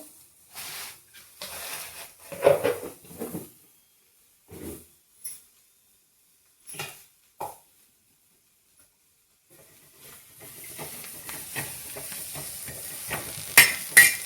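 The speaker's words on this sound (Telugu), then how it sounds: "నేను కలుపుతుంటాను కాకరకాయలు" Small bitter gourds frying in a pan with jaggery being stirred, intermittent scraping strokes and soft sizzling, then a steadier hiss of frying toward the end, with no talk.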